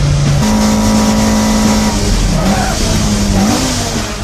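A car engine revs hard through sharp heel-and-toe gear shifts, its loud, close drone stepping between pitches with quick blips and dips.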